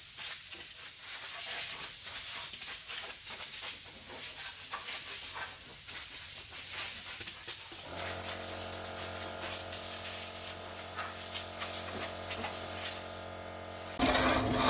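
An old Kasto saw runs in a workshop cutting feet for a Jung HF50 surface grinder, a steady mechanical drone with a rhythmic tonal hum that strengthens after a few seconds, with clanking near the end.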